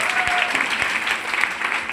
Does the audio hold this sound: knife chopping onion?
no